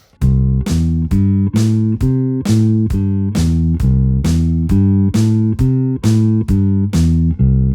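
Bass guitar notes plucked over the pickup in open position around G, a steady run of about a dozen evenly spaced, round, sustaining notes, close and loud with no voice over them.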